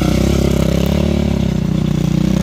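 A Yamaha Raptor 700R ATV engine runs loud and close, holding a steady, throbbing rev with a rough clattering edge throughout.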